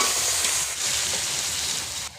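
Green peas tipped into a pan of browning chicken for vegetable biryani, setting off a steady, close sizzle and frying hiss that carries on without letup, with no talking.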